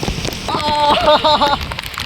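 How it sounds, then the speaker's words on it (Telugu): Heavy rain pours down steadily near Gokarna in coastal Karnataka, a dense, constant hiss running through the whole moment while a person talks over it. "ఘోరంగా వర్షం పడుతుంది."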